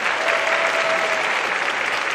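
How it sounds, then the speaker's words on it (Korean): An audience of soldiers at a military entertainment show in Hongcheon gives a big round of applause, a dense and even roar of clapping that carries on loudly throughout. "우리 장병 여러분께 다시 한번 여러분 큰 박수 부탁드립니다"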